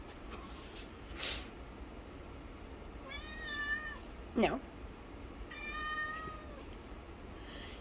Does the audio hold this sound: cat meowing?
yes